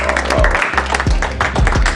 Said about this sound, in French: Merci. Applaudissons.